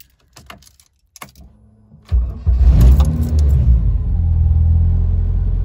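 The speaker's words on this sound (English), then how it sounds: "Day 2 startup since the coolant sensor change." A Ford Fiesta Zetec S with a newly replaced coolant sensor and a stalling fault: a few faint clicks, then the engine cranks and catches into a loud, close, steady rumbling idle.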